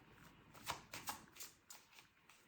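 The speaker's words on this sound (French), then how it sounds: "Mélanger mes cartes" Tarot cards shuffled by hand, giving several soft, quick riffling bursts at an uneven rhythm, faint and close, with no talking.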